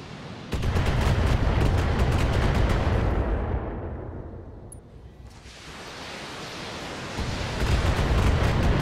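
A mech in Battletech launches long-range missiles in a heavy roaring volley of rushing booms and rumbles, loud and sustained, fading briefly midway before a second rumbling barrage builds again.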